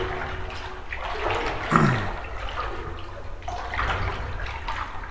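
Water sloshing and swirling around a slow-moving character in The Complex: Found Footage video game, a continuous close splashing wash with a brief louder surge midway.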